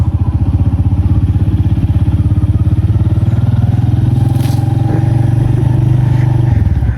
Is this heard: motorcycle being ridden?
yes